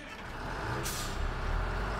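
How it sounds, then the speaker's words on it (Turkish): A cartoon truck pulls away as its air brakes release a sharp hiss, set over a rising low engine rumble that grows louder toward the end. "Kamyon gidiyor Azmi."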